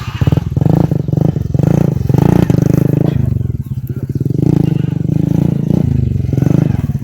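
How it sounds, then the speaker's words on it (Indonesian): A motorcycle engine revs hard and close during hill-climb practice with a riders' club, its throaty roar surging and easing over several seconds while voices talk over it. "Motor kuwi garang Yan."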